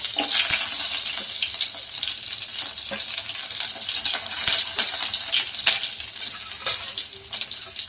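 Chana dal, curry leaves and red chillies are stirred in a hot oiled pan, a loud, steady sizzle and crackle broken by scraping spoon strokes and small clinks throughout, with no talk.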